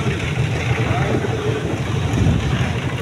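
A motorized trawler boat running steadily on open water, its engine and hull noise a constant loud drone with wind buffeting the microphone throughout.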